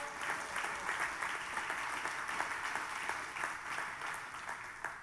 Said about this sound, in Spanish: Dele ese aplauso a Dios.